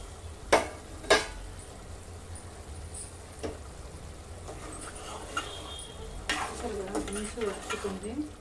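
Chicken for a green chicken dish fries in a covered pan with a soft, steady sizzle, broken by a few sharp clanks near the start and scraping stirs toward the end.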